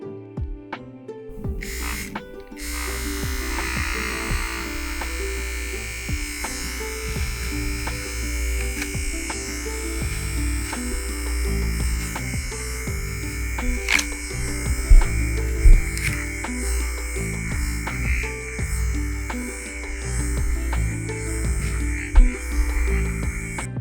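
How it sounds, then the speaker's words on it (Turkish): Steady video game electric clipper buzz shaving a dog runs nearly the whole time, loud and close, with small shifts in pitch as it moves; no talking. "O yüzden şimdi tıraş makinesi kullanacağım."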